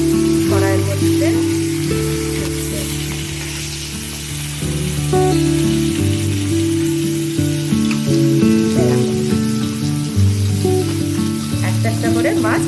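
Bata fish fried in oil in a wok, a continuous loud crackling sizzle with sharper pops as pieces are added one by one, under background music and occasional talk.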